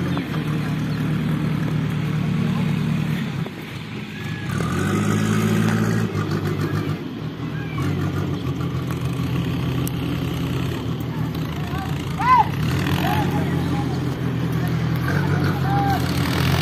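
A tractor pulling a gravel trolley, bogged down in soft rain-soaked mud, grinds and labours at steady, loud engine load with surges of revving throughout, while people talk over it.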